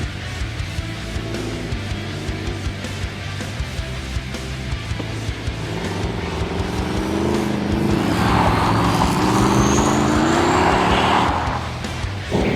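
A V8 muscle car being raced hard on a race day, engine roaring steadily close by, then rising in pitch as it accelerates, with tire squeal building near the end.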